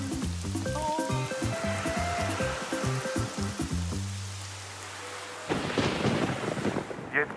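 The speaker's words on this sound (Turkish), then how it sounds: "Sabaha kadar sürecek olan fırtına." Cartoon thunderstorm with steady rain and rumbling thunder, a low sustained roll midway giving way to a loud crash and heavy downpour near the end, over a musical background.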